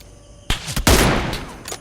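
Gunfire in the mobile battle-royale game BGMI (PUBG Mobile): after a sharp first report, a close burst of loud, rapid shots follows, trailing into a sustained noisy tail with one more shot near the end.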